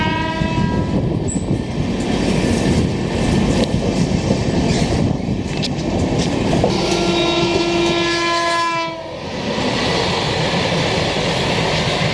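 The Bangalore Rajdhani express overtakes the AP Express, heard from aboard: a loud, steady rush of rail and wheel noise with repeated train horn blasts, then a brief dip before the roar returns.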